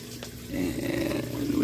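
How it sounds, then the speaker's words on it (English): Water pours steadily into a 50-gallon tank from a pump slowly ramping up, a continuous rushing, churning flow heard close. "We got water flowing up here."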